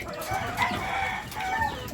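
Chickens cluck and a rooster crows close by in a backyard flock, overlapping calls forming a brief, busy mix of clucks and drawn-out crowing.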